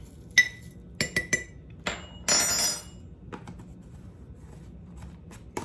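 Pickling spice spooned into glass jars: a few close, sharp clinks of a spoon on glass, then a short rattling pour of seeds and small spices, followed by quieter taps, with no talking.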